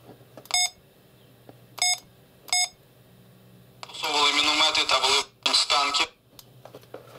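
Three short electronic beeps, then a loud warbling alarm tone from a Baofeng UV-3R Mark II handheld radio in two long bursts, close by.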